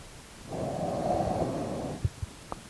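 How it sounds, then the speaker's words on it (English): A slow, deep breath is drawn in during a yoga stretch, a smooth breathy rush lasting over a second, close and soft, followed by a few faint taps. "Take a breath here."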